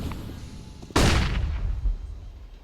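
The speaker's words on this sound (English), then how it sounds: "That nade is gonna land right on SMF's head." A grenade goes off in a competitive Counter-Strike-style video game match, a sudden loud blast that rings out and slowly fades.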